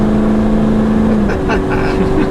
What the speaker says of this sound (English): These rear-wheel drive cars are so irresponsible. It's so easy to go sideways.